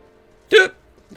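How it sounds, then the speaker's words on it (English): A single sharp hiccup, close and fairly loud, a short voiced catch in the throat standing alone against near silence, followed by a faint trailing breath. "Hiccups, yay."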